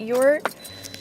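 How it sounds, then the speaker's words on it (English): A key goes into the ignition of a 2018 Toyota Corolla with a short metallic jingle and click, right after a voice. "you put the key into the ignition, you have the foot on your brake"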